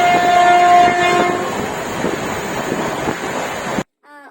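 Train sound effect from a children's fruit-train song: a loud horn blast over rumbling, clattering rail noise that carries on steadily, then cuts off abruptly into near silence.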